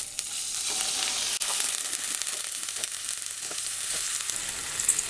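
Drumstick leaves and ground masala paste fry in oil, giving a steady close sizzle with occasional clicks of stirring, and no voices throughout.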